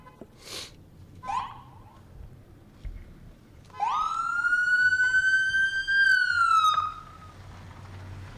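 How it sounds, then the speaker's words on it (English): An ambulance siren passes near Boston Logan Airport, starting with a few faint bursts and then sounding as one loud, sustained wail for about three seconds before it cuts off. "Oh, it's an ambulance going by."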